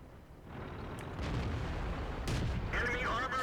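Tank gunfire in the World of Tanks video game, a heavy boom that swells into a sustained rumble with sharper cracks layered on top, followed by a brief electronic game tone, moderately loud against steady background noise.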